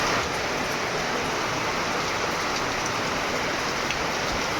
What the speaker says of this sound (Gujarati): રાજકોટમાં અત્યારે 12 વાગ્યે વરસાદ ભયંકર ચાલુ થયો છે.